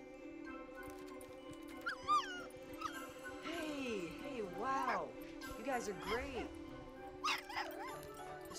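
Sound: golden retriever puppies whimpering and barking

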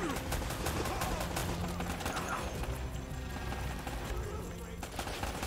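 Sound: gunshots from the video game Uncharted: Drake's Fortune

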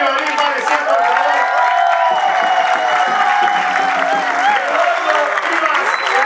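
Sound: audience applause

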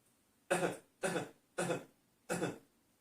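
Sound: cough

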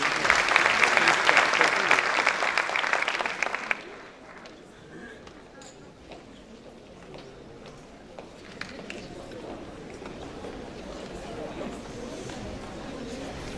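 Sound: audience applause welcoming a speaker

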